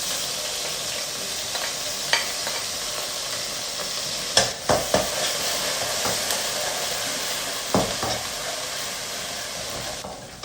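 Ginger garlic paste fries in hot oil for kizhi porotta, a constant close sizzle broken by a few sharp spoon-against-pan stirring knocks.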